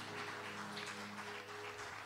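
Church congregation clapping for Jesus during a Portuguese-language worship service, a soft, steady wash of many hands heard from a distance, continuous for about two seconds with no talk over it.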